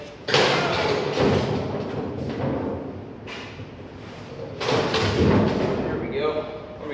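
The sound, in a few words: boat fuel tank being scooted over, thudding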